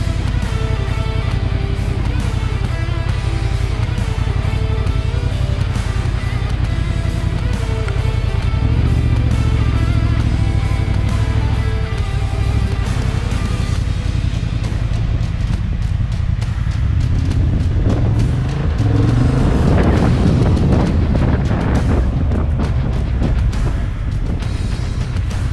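A Honda CB 750 Hornet motorcycle rides on the track at Briouze. The engine roars loudly and continuously, and its revs climb and fall in sweeping surges as it accelerates and shifts.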